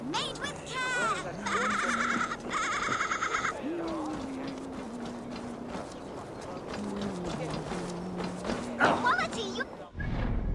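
Goats bleating in a Viking-era action video game, several wavering calls scattered over a busy market soundscape with hoof clip-clops, mechanical clatter and a steady musical drone, while people talk throughout.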